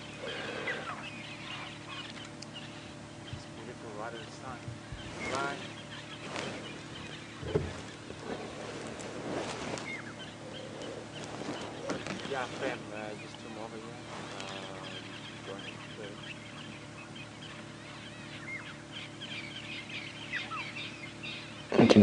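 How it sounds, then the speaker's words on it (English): A dawn chorus of francolins and starlings calls and clucks in the distance on safari, harsh repeated cries and chatter layered over a steady engine drone, with a person talking quietly throughout. "You can hear the dawn chorus of birds has suddenly decided to wake up."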